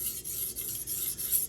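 Japanese kitchen knife drawn steadily over a whetstone with light finger pressure, giving a continuous close, soft hissing rasp with faint rhythmic strokes and no voices.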